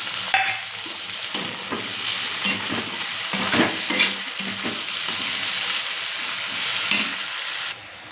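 Onion and tomato sautéing in a pan, a continuous bright sizzle with repeated scraping stir strokes close by, steady for several seconds before dropping away at the end, no talk.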